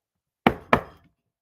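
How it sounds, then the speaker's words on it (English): Two hard, close knocks on a door land in quick succession, each sharp and hollow with a short decay, followed by silence. "The door was knocked hard, shocking the timid boy."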